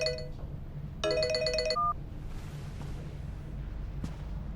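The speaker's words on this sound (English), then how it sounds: "I'm sorry, I have an urgent phone call." A phone ringtone chimes in two short electronic bursts, an urgent call sounding over a low steady hum in a quiet room within the game Memento Mori.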